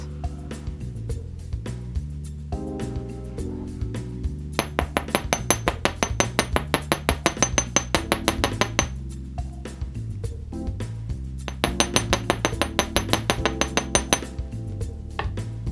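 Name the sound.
hammering metal earring wire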